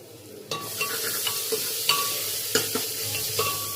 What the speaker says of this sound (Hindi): आप देख सकते हो प्याज पक रही है।